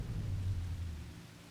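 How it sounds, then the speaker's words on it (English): Rain and a low rolling rumble of thunder in the video game Horizon Forbidden West, a dense steady patter over a deep rumble that gradually fades. "And suddenly rain."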